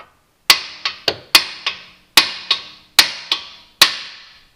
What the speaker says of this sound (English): we'll just take a hammer and give it a couple good cracks right here